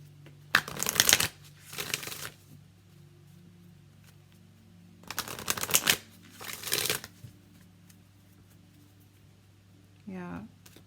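Oracle card deck being shuffled by hand, two bursts of riffling and shuffling with a pause between, close and fairly loud over a steady low hum, a short voice sound at the end.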